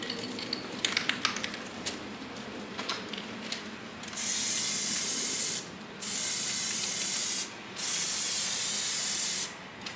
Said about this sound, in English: Well, we'll find out when I spray it.